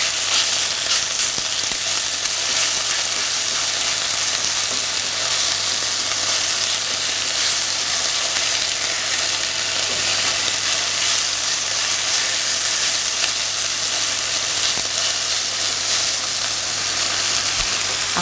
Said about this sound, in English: Make sure when you're frying it off, you just separate it